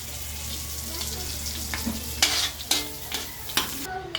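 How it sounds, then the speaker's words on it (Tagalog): Garlic and onion sauté in a pan for spaghetti sauce, giving a steady close sizzle. Several sharp scraping stir strokes cut through it toward the end. "at isusunod natin ang bawang sibuyas"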